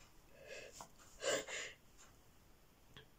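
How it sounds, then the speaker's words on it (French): A single person's sneeze bursts out sharply mid-clip, framed by faint breathy sounds before and after in a quiet room. "Pardon, j'ai éternué."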